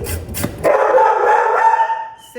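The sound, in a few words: dog barking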